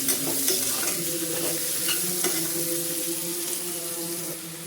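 Chopped onions and tomatoes with a spoonful of salt sauté in a hot pan for a potato-cauliflower curry, a steady close sizzle with intermittent scraping of a spoon stirring through.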